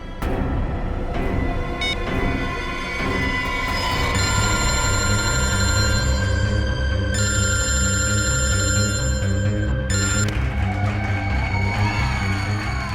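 A mobile phone rings loudly with a repeating electronic ringtone in a tense crime-drama scene, the tone running steadily over a background music bed for several seconds.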